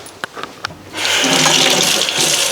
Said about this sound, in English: I'll just rinse the knife.